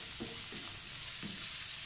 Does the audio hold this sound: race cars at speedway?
no